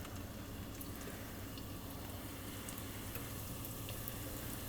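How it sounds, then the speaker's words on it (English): Cut tortilla pieces dropped into hot oil for restaurant-style tortilla chips, a soft steady sizzle close by with faint bubbling and occasional pops. "I'm just going to start adding some of these tortillas that I cut in the oil"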